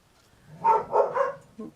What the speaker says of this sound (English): Oops, there's the dogs.